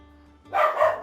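A dog in a room gives a single short bark partway through, loud and close, rising over a faint low steady hum.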